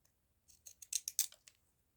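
Several quick snips from a pair of fun craft scissors cutting, a short irregular run of crisp close clicks that builds and then fades, with no talking.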